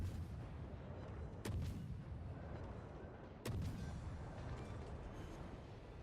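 Naval guns firing in World of Warships at point-blank range against an enemy cruiser: two sharp, loud broadband salvos about two seconds apart, each followed by a rumbling tail over steady engine and sea noise.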